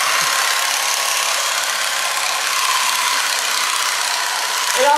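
Electric shearing clippers trim a sheep's tail with a steady, loud mechanical buzz that runs continuously and close up throughout, with no talking.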